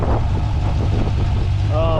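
An untuned C5 Corvette V8 idling close by, a loud, deep, steady rumble with a slightly uneven lope, running alone without talk.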